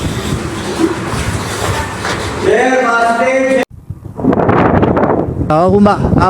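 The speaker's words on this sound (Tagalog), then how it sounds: "Pasensya na kayo kung medyo maingay ang ating sounds kasi malakas ang hangin" Strong sea wind roars and buffets the microphone as a broad, steady rush by the shore, with a voice speaking under it and a brief cut-out midway.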